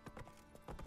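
Faint hooves of a horse in The Witcher 3 video game clip-clop in a few quick, soft thuds, trotting in an uneven rhythm over less than a second.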